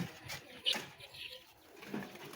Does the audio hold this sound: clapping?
no